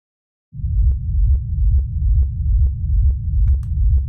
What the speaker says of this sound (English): So I've got a sub bass on this track here.